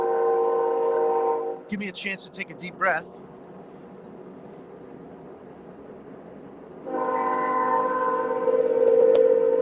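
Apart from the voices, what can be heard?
passing train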